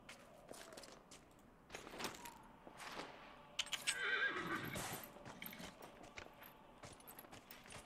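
Horses whinny and hooves clip-clop during a horse race in the video game Dragon Age: Inquisition, with one clear neigh rising in the middle over steady movement sounds.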